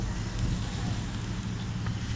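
Steady outdoor wind rumbles and buffets the microphone in a constant low roar, with no other clear sounds.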